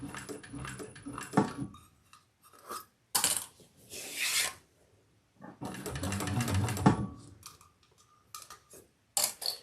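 A sewing machine stitches the seam of a crossbody bag without backstitching, running in two separate bursts with quieter handling and rustling of fabric and lining between them.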